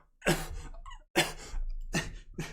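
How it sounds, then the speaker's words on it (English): Several harsh, loud coughs close by, coming in uneven bursts with brief gaps between them. "Oh, I'm coughing on all this fur."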